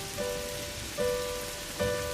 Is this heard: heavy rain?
yes